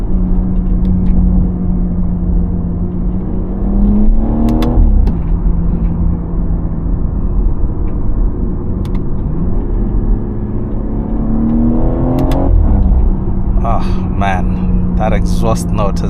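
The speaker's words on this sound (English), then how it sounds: "exhaust note is just so glorious." A steady engine drone from inside a driving BMW M140i with an eight-speed ZF gearbox, with a couple of rising revs and gear-change dips, close and continuous throughout.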